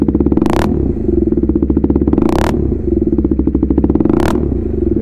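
A KTM RC 390 sport motorcycle engine runs close and loud with a rapid, steady pulsing chug, broken by three sharp bursts spaced evenly apart, with no voices.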